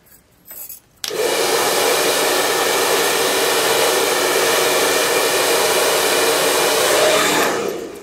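A blow dryer drying hair switches on abruptly after a second of quiet, then roars steadily and loudly at close range for about seven seconds before easing off at the end.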